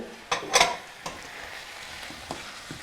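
Chicken meat going into a pan where tortillas are cooked, giving a few sharp sizzling bursts and clatters early on, then a quieter steady fry with occasional small taps.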